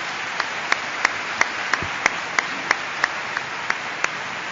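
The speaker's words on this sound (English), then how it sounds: "give one last round of applause for our panelists, for Dr. Bishop." Audience applause for conference panelists at a Nobel Conference, a steady wash of clapping with sharper individual claps standing out at an even, regular pace throughout.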